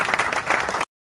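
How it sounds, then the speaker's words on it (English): Short burst of virtual applause played for a teacher during an online session on teaching with Canva, dense crowd clapping that cuts off abruptly after under a second. "Mom Juliet, you deserve this virtual applause."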